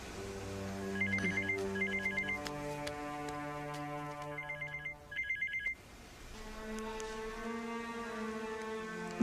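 A telephone rings in repeated electronic bursts of warbling tones, with short gaps between rings, heard clearly over a background music bed with no speech.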